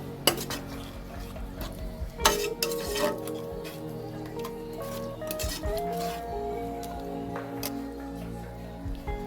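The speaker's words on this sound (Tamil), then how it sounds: "நம்ம தயிர் ஊற்றி நல்லா மிக்ஸ் பண்ணி விட்டுருலாம் அந்த எண்ணெயிலேயே." Yogurt being stirred into hot oil in a pot for chicken dum biryani, with a spoon scraping and clinking against the pot in irregular strokes over a soft sizzle, close and fairly quiet.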